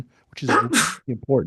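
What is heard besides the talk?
sneeze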